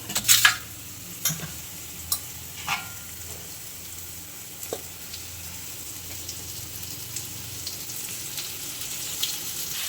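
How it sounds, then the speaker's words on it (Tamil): Ginger and garlic sauté in oil with a steady frying hiss, a few sharp clinks of a utensil stirring against the pan near the start and at intervals, and no talk. "இஞ்சி பூண்டு போட்டு ஒரு ரெண்டு நிமிஷம் மூணு மூணு நிமிஷம் வந்து எண்ணெயில் வதங்கினா போதும்"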